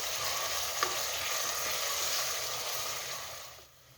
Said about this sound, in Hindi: सबसे पहले पॉट में हमने ऑयल डालना है, मीडियम आंच रखनी है और प्याज को फ्राई करना है गोल्डन होने तक